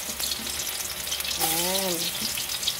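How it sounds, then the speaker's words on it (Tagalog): Garlic and onion sauté in hot oil in a pan for pork igado, giving a steady close sizzle and frying hiss, with a brief voice-like tonal sound partway through. "Mainit na ang mantika, guys. So, simulan na natin mag-isa ng bawang sibuyas."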